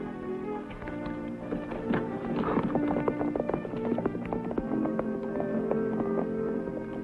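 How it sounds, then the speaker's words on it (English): A loose horse's hooves clip-clop in a quick, uneven rhythm on hard ground, moderately close, with faint rustling and creaking around them. "Loose horse."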